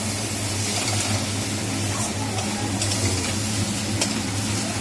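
Fish fries in a pan with a continuous crackling sizzle over a low, steady mechanical hum, plus a few light sputters.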